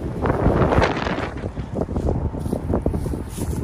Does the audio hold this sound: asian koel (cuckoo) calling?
no